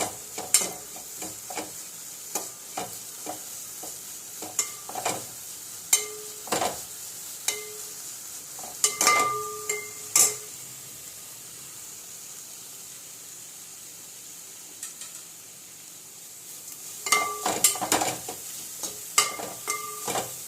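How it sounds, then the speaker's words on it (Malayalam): Washed prawns fry in a pan over low heat, a continuous soft sizzle broken by repeated sharp clinks and scrapes of a spatula stirring against the metal, close and clear with no talk. "ആദ്യം ചെമ്മീൻ കഴുകി വറുത്തെടുക്കുക"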